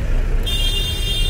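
Busy road traffic on the route to Rajgad fort, a steady close rumble of engines and tyres with a thin high tone entering partway through.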